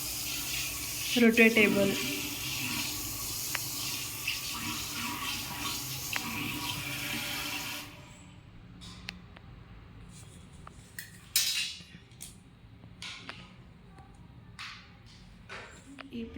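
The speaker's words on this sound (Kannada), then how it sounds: "ಇದರಲ್ಲೇ ಇದು ಶವರ್ ಥರ ಬರುತ್ತಲ್ಲ ಕಿಚನಲ್ಲಿ ಸಿಂಕ್ನಲ್ಲಿ ಪ್ರಾಡಕ್ಟು, ಅದು ಫುಲ್ ನೀರೆಲ್ಲ ಇದು ಸ್ಟ್ರೇಟಾಗಿ ಬರುತ್ತೆ" Water sprays hard from a shower-style attachment on a kitchen sink faucet, a steady hiss that cuts off partway through, followed by light clinks and a voice speaking.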